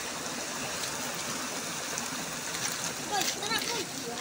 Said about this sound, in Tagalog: Lakas ng agos eh.